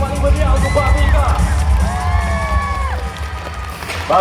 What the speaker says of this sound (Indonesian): Beri tepuk tangan yang paling meriah untuk Babika.